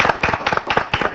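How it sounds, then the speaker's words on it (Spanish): Studio audience clapping to welcome guests, a short burst of bright, fairly close claps in a loose rhythm, with four or five distinct clusters over about a second. "Los recibimos con un aplauso."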